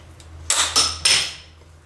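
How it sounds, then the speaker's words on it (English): Three sharp metallic strikes and scrapes from a screwdriver prying at a car's front strut bearing, close and loud, each ringing briefly before fading. "Looks like I have to get a screwdriver to pry it out."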